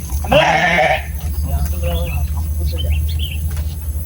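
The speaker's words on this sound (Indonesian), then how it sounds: "Biarkan ibu kambing itu menangis." A mother goat bleats loudly and close by in a quavering cry, followed by softer bleats, while people talk in the background.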